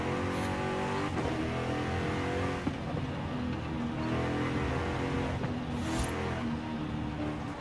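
A V8 race car engine in the Forza Horizon racing game drones steadily and loudly, holding a rich harmonic tone with slight rises and falls in revs throughout.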